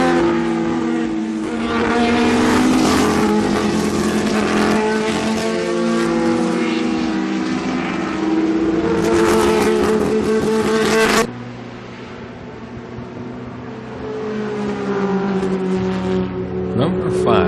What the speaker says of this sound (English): Number 1, 1972 Porsche 908/3 was right on his tail, and boy, I'll tell you, that was a real pretty car